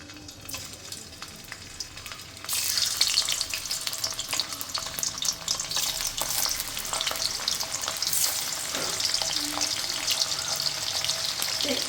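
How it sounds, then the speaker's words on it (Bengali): Paneer pieces fry in hot oil in a wok: a quieter stretch gives way to a loud, steady sizzle that jumps up after about two and a half seconds and holds with crackling spits. No one talks. "তেলের মধ্যে আমি এখন ভেজে নেব যে পনিরগুলো আমি কেটে রেখেছিলাম"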